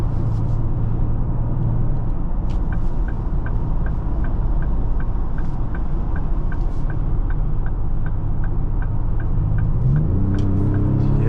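A 2025 Ford Explorer ST on the road, with a steady engine drone and road rumble under an even, rhythmic ticking; near the end the engine note climbs as the car accelerates.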